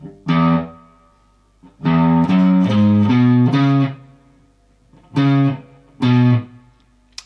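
A distorted electric guitar plays the opening of a song slowly: a single chord, then a run of several notes, then two more separated chords, with silence between phrases.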